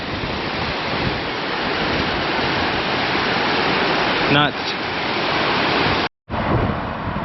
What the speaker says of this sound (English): There's water like flowing from that side of the river over that stone island to over here.